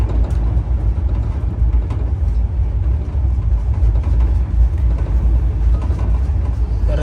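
An AC Express train runs at high speed on the Western Railway, a loud, steady low rumble and roar of wheels and carriage filling the whole stretch without pause.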